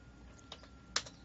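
A few sparse computer keyboard keystrokes for data entry, close and quiet, with two distinct clusters of clicks over a faint background hum and no talk.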